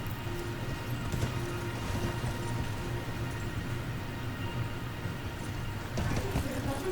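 Horse hooves clip-clopping at a steady run across rooftops in Elden Ring, with jump impacts near the end, steady and mid-level throughout beneath a constant game soundscape; someone talks over it.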